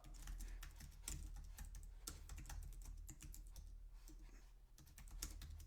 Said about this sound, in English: I'm just typing this in so that way people joining in can see it.